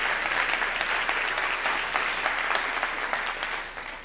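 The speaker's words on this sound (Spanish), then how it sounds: "Dale fuerte el aplauso al Rey." A church congregation gives sustained, dense applause, steady and fairly loud, fading slightly toward the end, with no talking.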